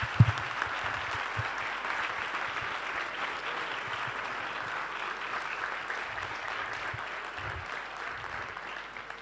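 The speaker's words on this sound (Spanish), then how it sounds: "le damos un fuerte aplauso" An audience applauds after a talk on Chesterton, a steady wash of clapping that holds evenly for about nine seconds with no voices over it.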